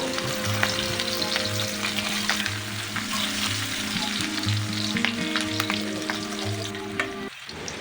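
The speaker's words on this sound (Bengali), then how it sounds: "এখন পেঁয়াজ লঙ্কাগুলো ভালো করে ভেজে দিই" Onions and green chilies fry in hot oil with a steady, close sizzle over quiet background music, ending with a short utensil knock.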